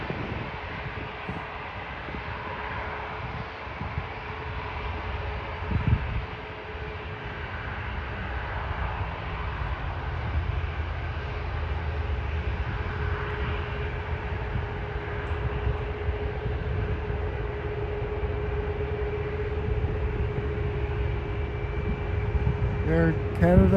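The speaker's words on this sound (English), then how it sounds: "Air Canada going to Gander, Boeing 737 MAX 8." An Air Canada Boeing 737 MAX 8 bound for Gander, at Toronto airport, gives a steady, broad engine drone with a faint constant whine. It holds at mid loudness and swells slightly toward the end.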